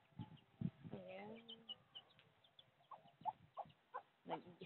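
A chicken clucks and crows nearby with a drawn-out call, followed by a series of short, choppy clucks.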